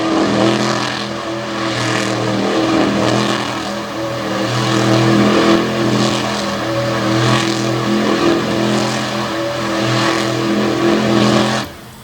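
The Pretty Wicked monster truck roars at close range while cutting a donut on the dirt front stretch of Brownstown Speedway, its engine revving in repeated surging waves at a loud, steady level.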